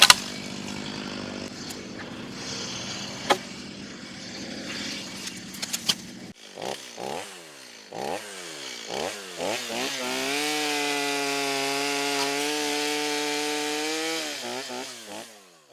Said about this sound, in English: I can't believe that saw is idling. Just purring, sitting there purring.